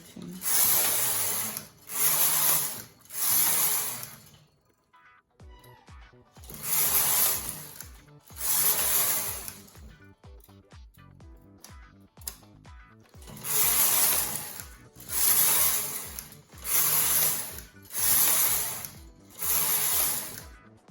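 Brother KH930 knitting machine knitting a scarf, the carriage swept back and forth in loud whooshing, rattling passes of about a second each, repeated around nine times with brief clicking pauses between and some quiet talk.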